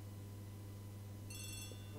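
A telephone rings in the Agatha Christie The ABC Murders video game: a faint, trilling electronic ring starts partway through over a steady low background hum, with no speech.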